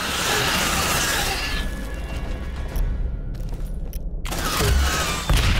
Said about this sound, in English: Just shotgun it all.